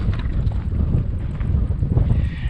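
Wind buffeting a microphone outdoors near an abandoned village, a loud, low rumbling gusty noise that swells and fades continuously.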